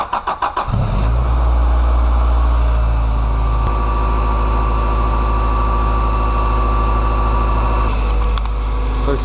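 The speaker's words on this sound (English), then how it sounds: "Then I'll do a sound test tomorrow. See how my car sounds without an exhaust leak." A car engine starts with a few quick cranking pulses, then settles into a loud, steady idle with a close exhaust drone after a crack in the exhaust was welded.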